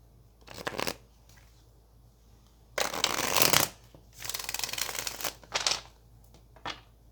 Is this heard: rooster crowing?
no